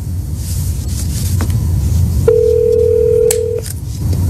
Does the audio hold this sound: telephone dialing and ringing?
yes